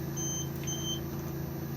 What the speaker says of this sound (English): If I press this at the moment, it will beep at us and we'll get that red indicator because we're not currently hitched up to a tow vehicle.